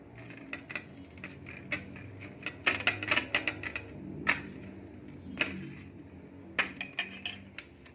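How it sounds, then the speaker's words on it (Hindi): Edible gum, sugar and ghee are stirred together in a bowl, producing quick, close clinks and scrapes in irregular clusters, some louder than others, with no voices. "अभी मैं पहले गूंद और शक्कर को मिलाकर उसमें घी डाल दूंगी और उनको अच्छे से मिक्स करूंगी।"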